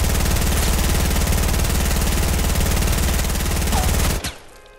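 Rapid automatic gunfire from a Fortnite match in Getaway mode, loud and continuous for about four seconds of sustained bursts before cutting off abruptly into quiet.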